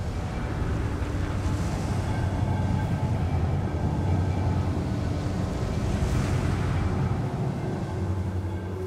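Steady roaring wind on a snowy slope in the game Journey, a loud, continuous rushing gust with faint swells, heard alone without talk.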